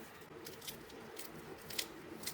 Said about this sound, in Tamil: இப்போ இதுலேருந்து நான் ஒன்று எடுத்து உடச்சி காட்டுறேன் பாருங்கள்